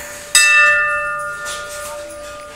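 A single bright temple bell strike rings out clearly, its metallic tone lingering and slowly fading over a couple of seconds.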